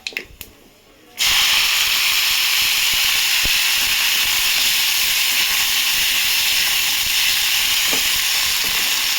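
Chopped radish greens for a coconut radish-greens dish hit hot oil in a pan. After a brief quiet moment, a loud, steady sizzle and steaming hiss starts suddenly and continues without a break.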